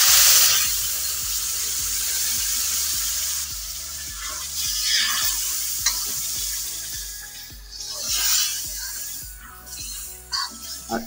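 A mango, sugar and milk mixture hits roasted semolina in a pan for mango barfi, giving a loud initial sizzle that settles into steady frying hiss with repeated stirring scrapes.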